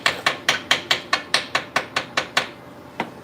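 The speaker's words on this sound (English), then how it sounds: "you guys are seeing me try hitting it with a hammer" A hammer strikes a cast iron weld in a garage, about a dozen sharp metallic blows in a steady, even rhythm, close and loud, with a short pause before the last hit and no talking.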